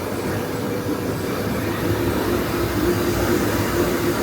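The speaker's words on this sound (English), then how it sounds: "巻き糸機。" A thread winding machine running in a towel factory, giving a continuous loud mechanical hum and whirr that holds steady throughout with no pauses.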